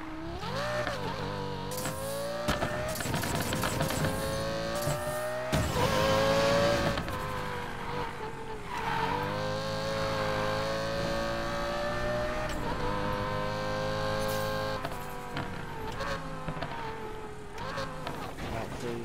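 Car engine in the video game Need for Speed Payback, a steady droning motor with shifting pitch as it revs and accelerates, continuous and fairly loud throughout with game music-like tones layered over it.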